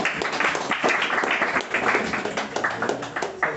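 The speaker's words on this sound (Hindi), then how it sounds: "तो तालियां बजाते रहिए।" A live audience at a Hindi poetry performance claps continuously, with steady, dense applause from many people and a few sharper individual claps standing out.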